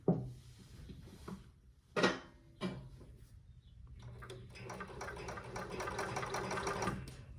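A blind stitch sewing machine hems sheer drapes, starting with a few sharp clicks and knocks before a steady mechanical whir builds and holds to the end.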